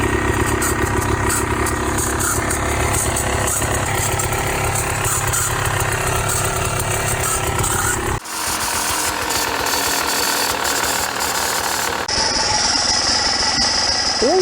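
A Beta enduro motorcycle engine with a failing main bearing runs steadily and loudly, giving a harsh mechanical rattle and grinding. The tone shifts abruptly partway through, and a high-pitched squeal rises near the end.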